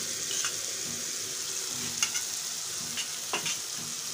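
Grated, boiled and mashed potatoes stirred in a frying pan for a Ramzan recipe, a steady close sizzle with scraping spoon strokes at irregular intervals.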